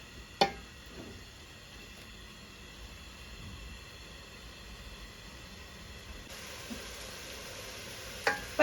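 Quiet sizzling and stirring in a pan as chili paste is stir-fried for a homestyle Thai red curry with pork, eggplant and coconut milk, with a few sharp clinks of a utensil.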